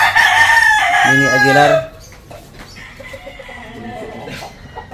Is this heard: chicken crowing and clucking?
yes